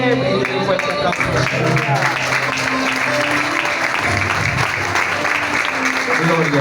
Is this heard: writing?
no